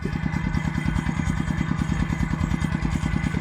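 A small water pump engine runs at a steady idle, a fast, even chugging pulse with a clattery mechanical rattle, close and constant.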